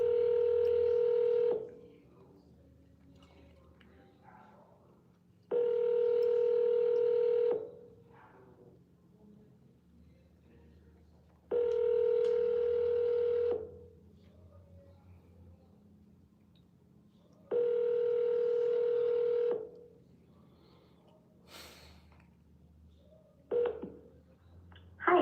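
An outgoing phone call rings four times in long, evenly spaced tones over a faint background hum, then a short final burst as the line begins to connect.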